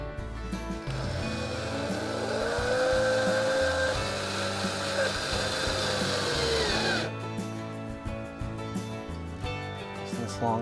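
A power drill drives black screws into the frame of an Otter XT Lodge fish house, whirring steadily for several seconds before stopping, followed by quieter handling clicks.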